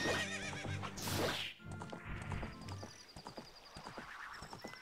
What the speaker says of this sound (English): You're neighing a lot.